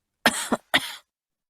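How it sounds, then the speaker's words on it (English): Two sharp coughs, the first a quick double burst, then a short pause and a second harsh cough, close and alone. "I have a bad cough."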